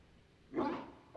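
A dog character in the Pokemon Violet video game, a Mabostiff, gives a single short, soft bark close by, with quiet game ambience before and after it.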